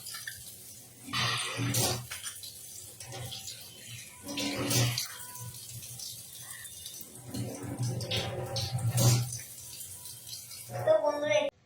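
Tap water runs and splashes in bursts while a face is being washed, with rinsing pauses between splashes and a voice speaking over it.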